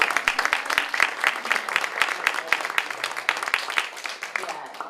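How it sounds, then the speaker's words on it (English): An audience claps for a performer after a show about Harriet Tubman, a lively, fairly close round of hand claps with distinct individual slaps throughout. "Give her one more hand clap"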